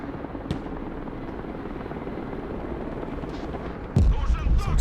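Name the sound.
Mi-8 helicopter in video game Broken Arrow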